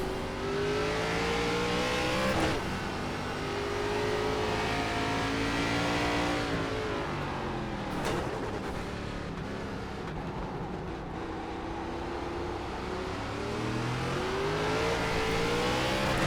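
An ARCA race car at Tsukuba in iRacing gives a loud, continuous engine drone with rising and falling revs as gears shift, plus sharp bursts where the wheels spin, with no talking.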